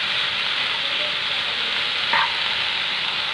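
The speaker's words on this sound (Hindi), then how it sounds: "चलिए इसे मिक्स कर लेते हैं, फिर कहूँगी गैस की फ्लेम को हाई रखिएगा" Chicken momo filling stirred in a pan over a high flame gives a steady, close frying hiss with one brief scrape of the utensil partway through and no voices.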